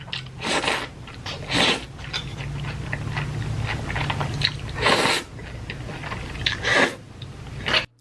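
Someone chewing bean noodles with wet, crunchy bites in several close, loud bursts, separated by quieter mouth noises and a low hum.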